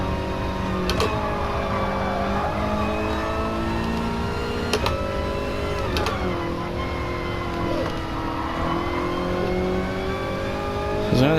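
A race car engine at Goodwood drones steadily from inside the car, with pitch sliding up and down through gear changes and sharp shift cracks at intervals, loud and continuous.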